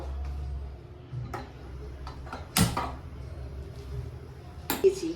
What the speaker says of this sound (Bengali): আমি এবার গ্যাসটা জ্বালিয়ে দেবো।